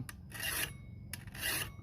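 Two bursts of harsh metallic rasping as a hand file is pushed along a mower blade, each stroke a second or so, close up with no talking.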